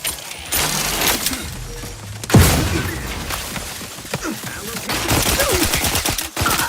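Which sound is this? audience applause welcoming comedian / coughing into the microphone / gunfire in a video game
gunfire in a video game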